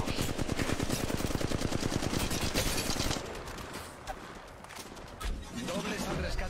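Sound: gunfire in video game Apex Legends Mobile

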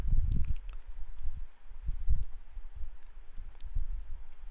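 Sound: typing a command on a computer keyboard

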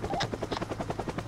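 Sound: helicopter flying in VR game Alpine Ski Resort

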